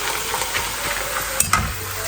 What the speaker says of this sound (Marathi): आता हे जे कॉर्न आहे ते आता फ्राय करून घेते मस्त.